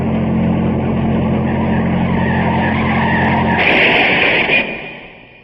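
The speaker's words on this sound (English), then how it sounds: "The car had crossed the center line and gone off the left side of the road and plowed into a palm tree." A car at night skids with a long, loud tire squeal over a steady engine roar, which then cuts off and fades out abruptly, with no distinct impact heard.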